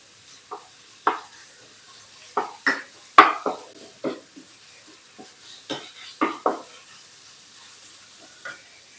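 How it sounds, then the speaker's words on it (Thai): Minced pork being stir-fried in a pan for a Thai stuffed omelette, with a spatula scraping and tossing in irregular strokes over a soft sizzle. The strokes sound close and moderately loud, with no voices. "ใส่หมูสับลงไปรวนค่ะ"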